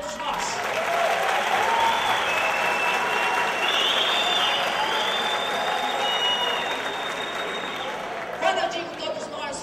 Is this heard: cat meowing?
no